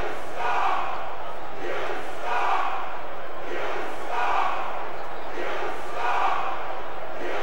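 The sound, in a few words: wrestling crowd cheering in the video game SmackDown vs Raw 2006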